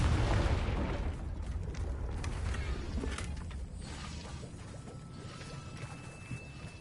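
Confringo fire spell explosion in Hogwarts Legacy: a heavy booming blast with crashing debris that swells early and then fades into a lingering rumble with scattered cracks, no speech.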